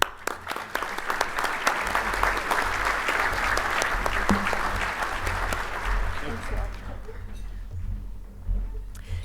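Audience applause at a civic State of the City luncheon for Planning Commission award recipients, a steady wash of clapping from a large crowd that carries loud for most of the clip before thinning out near the end.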